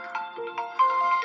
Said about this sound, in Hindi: थोड़ा सा फोन आ गया है।